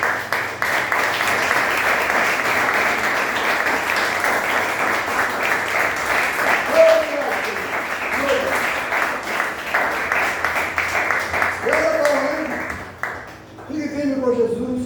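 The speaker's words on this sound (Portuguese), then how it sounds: "Vamos lá, uma salva de palmas para o Senhor." A church congregation applauds, a sustained, fairly loud wash of clapping that carries on with voices rising through it before thinning out near the end.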